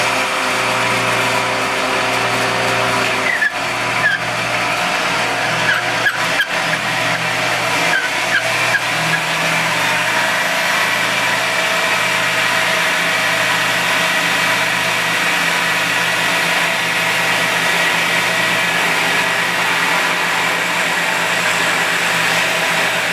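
Shopsmith multipurpose woodworking machine cutting or drilling, a loud steady motor hum and whine running continuously throughout, with brief sharper bursts early on and no talking.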